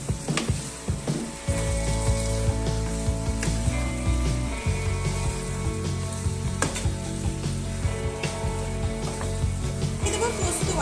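Vegetables for Bengali shukto, seasoned with salt and sugar, are mixed in a frying pan, giving a dense continuous sizzle with scraping, rattling stirring strokes throughout and a low steady hum underneath.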